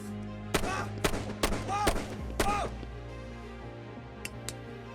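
Sharp gunshot effects for 9 mm explosive-tipped bullets, a handful of loud close cracks spaced about half a second apart, then two fainter ticks after a pause, over a low background hum.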